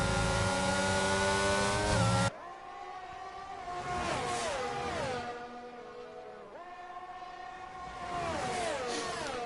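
Racing car engines in F1 22 at Maggots and Becketts, Silverstone, during a British Grand Prix F2 league race: loud high-pitched whines that rise and fall in pitch as cars shift gears and sweep through the fast bends.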